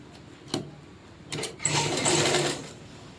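A sewing machine stitches a long skirt in two bursts. A short buzz comes first, then a steady, louder whirring run of about a second, with no talking.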